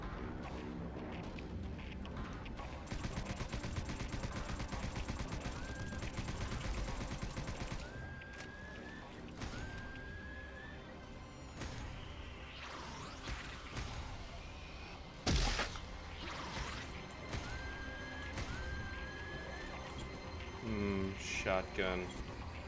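A powerful shotgun in the game Subterrain fires a few sharp, loud blasts, spaced apart among quieter mechanical sounds, with a person talking throughout.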